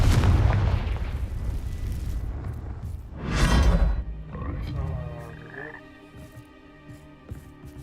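A fire-type spell blast in Hogwarts Legacy gameplay: a deep booming explosion erupts mid-clip after a low rumbling stretch, followed by fading crackles and ringing tones, with no talk over it.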